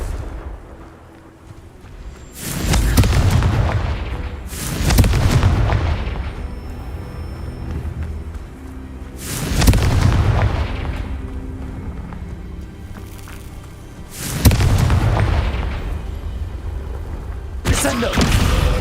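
In Hogwarts Legacy, a dark-wizard Slytherin player unleashes Confringo fire spells, setting off a series of about five heavy booming explosions at irregular intervals, each with a long rumbling decay, loud and close over continuous game noise.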